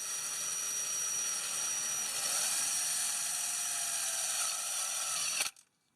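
A wood screw is driven into the crankshaft seal of a 2011 Toyota Sienna, giving a steady, close, high-pitched mechanical whir that runs without a break and then cuts off abruptly near the end. No one speaks.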